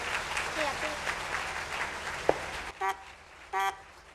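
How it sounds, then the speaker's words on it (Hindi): Applause for two competing teams at a Quran quiz program in a school hall in Okara, dense clapping under background chatter, then broken off by two short electronic buzzer tones near the end. "दोनों टीम्स के लिए भरपूर तालियां दें"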